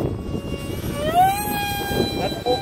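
An RC L-39 Albatros model jet flying at full throttle in extreme wind, a rising turbine whine that sweeps upward and holds, mid-distance under heavy wind rumble.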